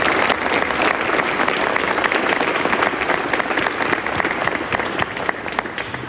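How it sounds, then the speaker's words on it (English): Loud, full round of applause from a crowd at a ribbon-cutting ceremony reopening army depot wheeled vehicle repair facilities, a dense, even clatter of many hands held steady throughout. "Would everyone please join me in a round of applause for all of us."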